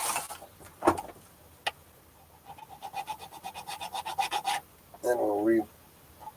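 Rhythmic rasping strokes of a file cutting string notches into the nut of an 1890s parlor guitar, a quick burst of about a dozen close scrapes following brief speech, then a short squeaky rub.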